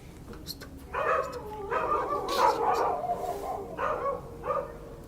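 Several dogs bark outdoors near a jungle at night in separate loud bursts, with short gaps between the volleys.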